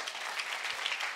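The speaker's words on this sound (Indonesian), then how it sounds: "Ayo kita tepuk tangan untuk anak-anak adikku sayang." Children and guests at a Christmas celebration for scholarship students clap in a brief, lively burst of applause.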